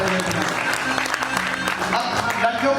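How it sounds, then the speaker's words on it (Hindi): Audience clapping at a Bollywood-style musical night, a steady dense wash of applause from a crowd, continuous and fairly loud for the whole stretch. "तालियां तो बन गया।"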